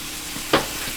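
Meat and cheese for a southern cheese steak sandwich sizzle steadily on a hot pan, loud and close, with a brief scraping stir cutting through partway.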